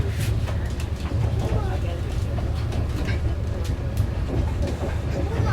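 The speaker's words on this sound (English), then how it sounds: "The train has slowed down," A Tejas Express train slows on its approach to Ratnagiri, heard from inside a first-class executive chair car as a loud continuous rumble with faint rail clatter. A voice talks over the noise.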